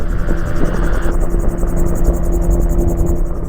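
Steady engine and rotor drone of a Magni M16 gyroplane in flight, loud and continuous from start to end with a constant tonal hum and no speech.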